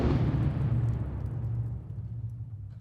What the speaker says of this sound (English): the explosions and the demonstrations that we do on the site